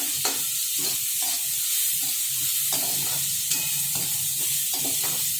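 Onion sautéing in a pan, a constant frying sizzle broken by repeated scraping stirs of a spatula, several strokes in an uneven rhythm, close and clear with no talking.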